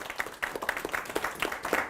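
A classroom of middle-school students claps for a classmate during a science lesson, a modest scattering of hands with a loosely rhythmic patter, fairly quiet and close.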